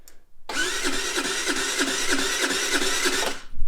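A Tao Tao ATV engine cranks on its starter in a close, steady, rhythmic whirring for about three seconds without catching, then stops.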